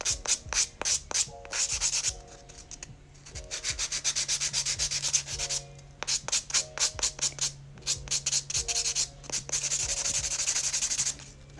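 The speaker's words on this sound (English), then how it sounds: "we're just gonna buff away the nail" A handheld nail buffer rubs back and forth across a polygel nail surface in quick close bursts of scratchy strokes, pausing briefly between sets, with no voices.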